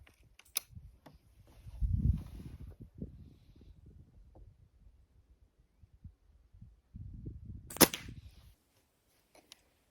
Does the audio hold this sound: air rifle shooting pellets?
yes